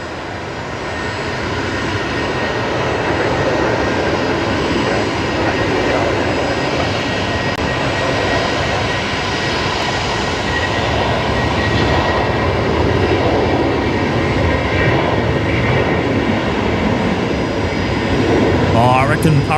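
Airbus A330 jet departing Brisbane Airport at night, a loud, sustained roar of engines at a distance that holds steady and swells slightly toward the end, with voices talking over it.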